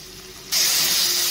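Water poured into a pan of masala curry being mixed over a medium gas flame sets off a sudden loud, steady hiss and sizzle that starts midway and continues alone.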